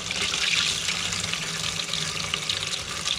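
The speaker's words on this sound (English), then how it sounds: "I'm gonna try and control how much water's coming out this thing in one go" Water pours out of a racing car radiator after the cap is removed, a steady close splashing gush that keeps flowing, with no voices.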